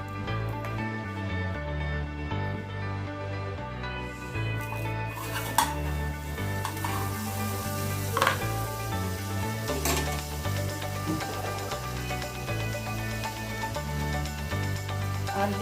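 Butter sizzling steadily in a hot pan with washed vegetables, a continuous close fry with light scrapes and clinks of stirring over a low steady hum, no talking.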